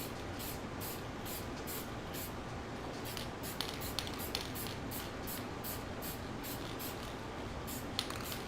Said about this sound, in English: I'm just going to spray the front of this with Carmar varnish right here